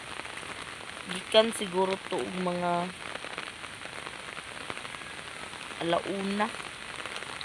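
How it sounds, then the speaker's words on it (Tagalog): Heavy rain pours steadily as a constant broadband hiss, with people talking at moderate distance over it in a few short bursts. "Grabe nga ulan."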